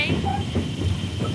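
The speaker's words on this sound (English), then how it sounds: "We're taking our train ride on the open train." An open car on a heritage railroad at Kempton, Pennsylvania rolls along on a sunny day, with a close, continuous rumbling and hissing rail noise and faint clicks.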